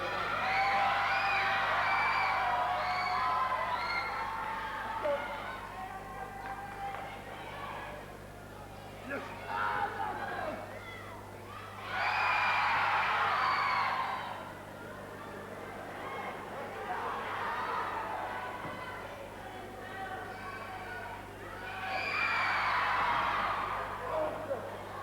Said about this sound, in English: A tremendous crowd here in Le Pou who